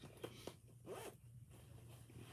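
A zipper on a fabric project bag is drawn closed in a few quick, soft rasping pulls, faint and close with no talk.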